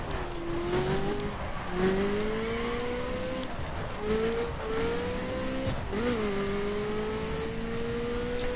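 In The Crew video game, a Ferrari F40 LM drives around the Nürburgring, its engine note rising and dropping through gear changes with brief tire squeals, loud and close throughout, no talking.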